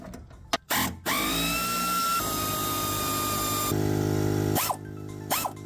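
A power tool whirs and winds down while removing 13mm bolts from a Jeep TJ, a steady mechanical drone with a shifting pitch, broken by short clicks and clunks of the tool.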